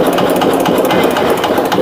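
A 12 to 22 hp Eicher diesel engine runs steadily up close, a loud, continuous chugging idle that stays unbroken to the end without any audible shutdown.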